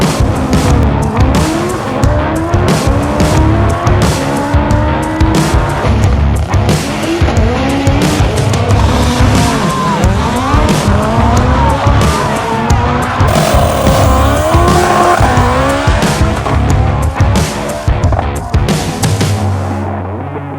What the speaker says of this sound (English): We drag race with the car, specifically quarter mile drag racing.